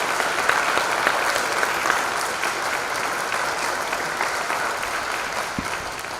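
An audience at a spring awards ceremony claps in sustained applause, a dense, steady patter that gradually softens toward the end.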